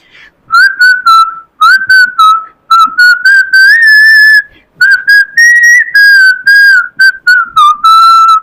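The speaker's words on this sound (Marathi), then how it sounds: "मी शिट्टीतून गाणं म्हणणार ते तुम्ही ओळखायचं आहे" A person whistles a song tune alone, clear, loud and close, in melodic phrases broken by short pauses for breath.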